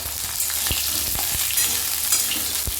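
Moringa drumstick pieces fry in hot oil, a steady broadband sizzle with a few sharp pops and stirring knocks scattered through, close and continuous without any voices.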